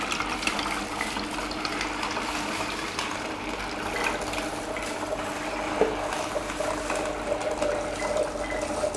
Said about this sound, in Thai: นี้น้ำทับทิมก็เริ่มออกมาแล้วนะครับ ก็น้ำทับทิมออกมาด้านหนึ่งแล้วก็ กากก็ออกมาด้านหนึ่ง